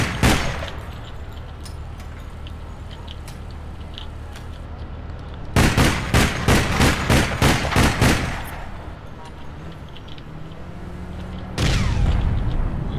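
Rifle fire in APB Reloaded: a rapid burst of loud, sharp shots around the middle, with a few scattered shots before it and another burst near the end, over constant game background noise.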